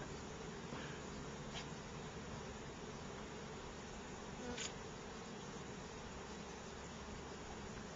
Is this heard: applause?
no